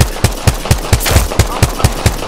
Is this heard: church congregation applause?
no